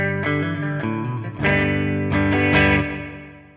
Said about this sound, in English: Sounds like a spring reverb.